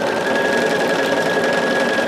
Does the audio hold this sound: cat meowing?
no